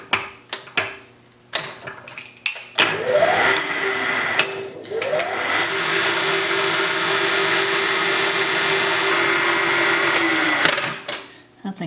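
Deep hole drilling into metal with a pecking technique on a Do-All machine: several sharp knocks and clanks give way to a sustained whining, grinding spin that rises in pitch, plays out for several seconds, then drops off near the end.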